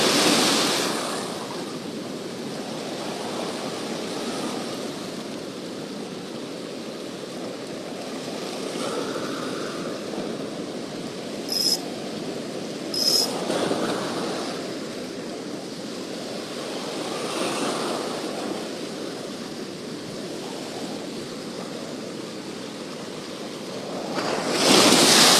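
Ocean waves wash steadily around a fishing boat off Siargao, a continuous broad roar of surf with wind buffeting the microphone, swelling slightly at times and with no talk throughout.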